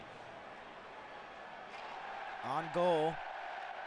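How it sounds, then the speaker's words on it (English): Arena crowd at a Stanley Cup Final hockey game, Florida Panthers against Edmonton Oilers in Game 4, roaring steadily throughout and swelling slightly near the end as a commentator's voice briefly cuts in over the din. "And they're cheering right after he made a save."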